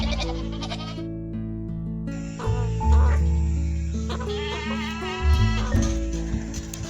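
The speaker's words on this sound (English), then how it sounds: "Feral goats have become one of the most dangerous invasive species in the country." Feral goats bleating in a series of wavering, nasal calls, loud and close, with another animal call and some background noise mixed in.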